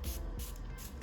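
Bursts from a D'Alba truffle first spray serum misted onto the face, three short hissing sprays in quick succession, close and fairly loud, with no talking.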